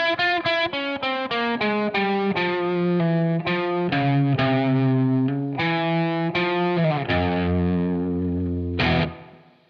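A harmonic minor scale rings out on distorted electric guitar, the single notes picked one after another in a steady run with sustain that ends in a long held final note, loud and clear with no talk.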